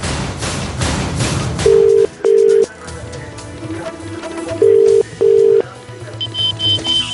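Telephone keypad tones sound in two pairs of steady beeps over a busy background murmur during the Mumbai 26/11 siege, followed by a high, faint repeating ring tone as the call connects.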